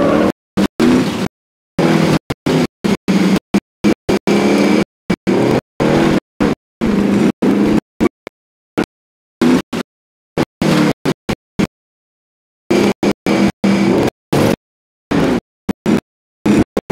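A vehicle drives in the video game Call of Duty Warzone. The engine roars loud and close, revving up and down, and the sound cuts out in repeated abrupt silent gaps.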